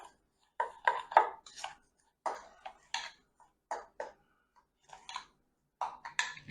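Breadcrumbs being stirred with olive oil in a bowl for a homemade mac and cheese topping, giving short scraping and clinking strokes in irregular bursts, close and fairly quiet with pauses between.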